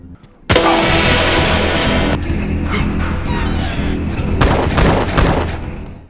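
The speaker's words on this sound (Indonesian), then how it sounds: "Tembakan dari Randall membuat para anak buah si Papa pada keluar kandang" Gunfire in a film shootout scene: a sudden loud burst followed by sustained rapid volleys of shots close by, with a dog barking amid the noise.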